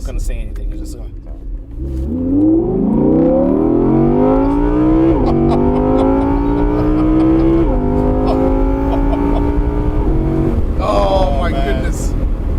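2017 Audi R8 V10 Spyder accelerating hard, the engine note climbing steadily through the gears with distinct shift breaks, loud and close from inside the car, ending with a brief exclamation from an occupant.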